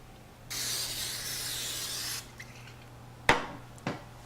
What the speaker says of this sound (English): Here I'm using this cooking oil spray.